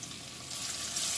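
Half a cup of chopped local onions sizzling in a pan for a cauliflower and chicken curry, a short steady hiss that swells slightly louder partway through, with no voices.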